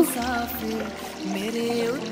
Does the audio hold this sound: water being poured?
yes